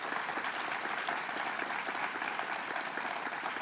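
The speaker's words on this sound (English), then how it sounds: "we need to give him another big round of applause" A crowd at a Bronx event for the Silvercup Studios expansion gives a borough president a round of applause, a steady, even wash of clapping heard from some distance at moderate volume.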